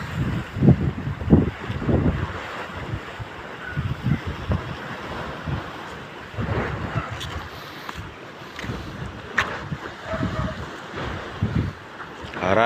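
Big waves and strong wind at Raya Beach, with surf crashing in repeated loud bursts under heavy wind buffeting the microphone, while a voice speaks intermittently.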